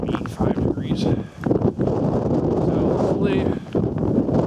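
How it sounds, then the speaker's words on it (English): Strong gusty wind of 25 to 30 mph sweeping across open ice, blasting and rumbling against the microphone in heavy surges, with someone talking through the noise. "I don't know if you can hear the wind."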